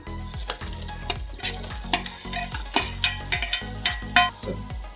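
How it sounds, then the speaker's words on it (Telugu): Ivy gourd pieces are stirred into a frying spice paste in a pan, with close, rhythmic spatula scrapes and clinks repeating every half second over a light sizzle. "మంచిగా ఈ పేస్ట్లో కలిసిపోయేలాగైతే ముక్కలన్నిటిని ఇట్లా కలిపేసుకున్నామండి"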